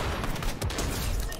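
A rapid, continuous burst of Fortnite gunfire, dense overlapping shots crackling loudly throughout with no pauses.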